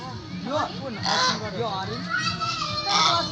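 A domestic duck at a picnic spot gives a series of loud, nasal honks, several in close succession, mixed with people talking nearby.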